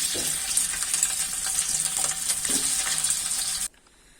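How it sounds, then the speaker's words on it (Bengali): Small whole potatoes crackle and sizzle loudly in hot oil with fried cumin seeds, an even frying hiss that stops abruptly near the end. "জিরাগুলো ভাজা হয়েছে, এখন আমি আলুগুলো ছেড়ে দিলাম।"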